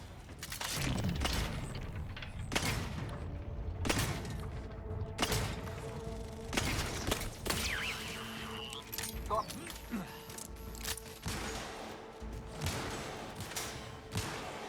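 Gunfire in a battle in The Outer Worlds 2, with repeated sharp shots and heavy booms landing at irregular intervals, loud and close, mixed with mechanical clanks and a voice talking over the fighting.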